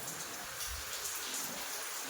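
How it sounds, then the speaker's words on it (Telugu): Unexpected rain in Ongole falls as a steady, dense wash of hiss and patter, fairly faint and continuous with no talk over it. "ఇప్పుడు అనుకోకుండా పడింది కదా వాన"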